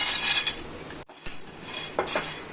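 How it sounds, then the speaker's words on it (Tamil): Cashews, raisins and split chickpeas dry roasting in a metal pan, with close clinking and scraping from stirring, a brief pause midway, then more scrapes. "முந்திரி, திராட்சை, உடைச்ச கடலையை கொஞ்சம் லைட்டா வறுத்துருவோம்."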